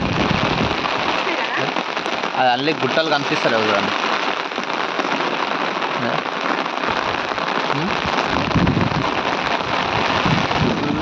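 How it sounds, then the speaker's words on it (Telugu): Steady, dense rain hisses throughout, loud and close, with a person speaking briefly over it near the start. "వర్షం అయితే ఫుల్ పడుతుందండి"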